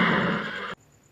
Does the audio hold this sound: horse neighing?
yes